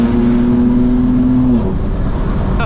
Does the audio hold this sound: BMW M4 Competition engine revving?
yes